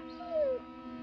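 Dogs or wolves howling outdoors on a winter night, a single short rising-then-falling howl rising above a steady low background hum, moderately loud and brief.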